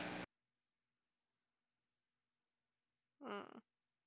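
After a brief loud burst at the start and a long near-silence, a single short meow like a cat's rises clearly for about half a second.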